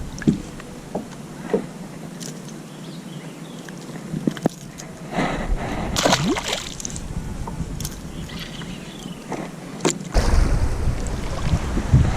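Gusty wind on a clear-water quarry buffets the microphone during kayak fishing, with rumbling surges and scattered light splashes and knocks from the boat, growing stronger toward the end.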